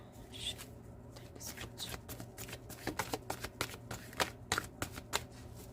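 Tarot cards being shuffled by hand close up, a quiet run of crisp riffling and slapping bursts that grows busier and louder toward the end, with no speech.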